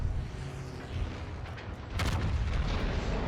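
Yamato battleship main gun salvo in World of Warships, heavy booming artillery blasts over a continuous low rumble, with a louder burst of firing partway through.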